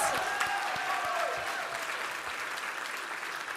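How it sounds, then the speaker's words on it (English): A roomful of guests applauds at a formal awards gala dinner, producing a full, steady roar of clapping that softens slightly over a few seconds, with some whoops or tonal cheers near the start. "I'd also like to give a big round of applause to our amazing wait staff and servers who did a great job tonight."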